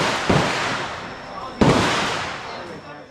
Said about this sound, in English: you can actually fire a military weapon